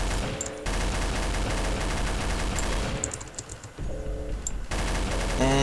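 Rapid automatic gunfire from a weapon in the video game Garry's Mod, a zombie survival map, rattling in dense continuous bursts with a short break midway before firing resumes, loud throughout.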